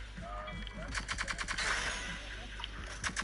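Rapid bursts of automatic gunfire crackle in a video game shooting range, with several quick volleys in succession set against a steady low hum.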